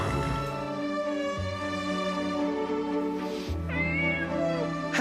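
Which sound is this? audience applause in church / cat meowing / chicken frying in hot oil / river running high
cat meowing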